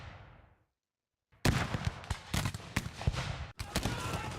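Volleys of musket and cannon fire from the Napoleonic strategy game Victory & Glory Napoleon, in a 1805 Danube battle: a fading blast, a short silence, then a dense run of loud, sharp repeated shots with a few abrupt gaps.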